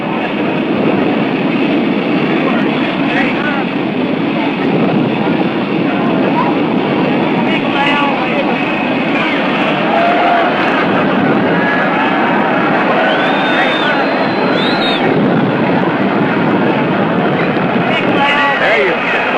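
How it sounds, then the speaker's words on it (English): A large jet airliner carrying the President arrives at Love Field in Dallas, its loud, continuous engine roar and whine filling the air at close range. "Here comes the big jet in."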